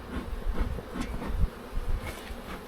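Honeybees buzz inside an opened hive during a summer inspection, a soft, uneven droning hum with swells and dips, close by and fairly quiet.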